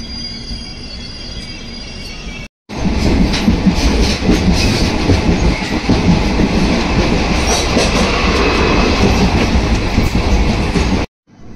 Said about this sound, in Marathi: इथे बराचसा वेळ जातोय आणि खूप स्लो जाते ट्रेन, खूप.